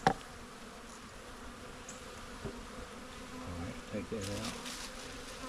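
Honey bees buzz steadily and faintly while a bee package is being installed into a hive, with a few soft handling knocks and a person speaking briefly.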